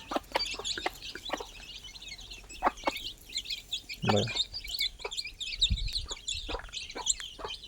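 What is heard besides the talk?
hen and chicks clucking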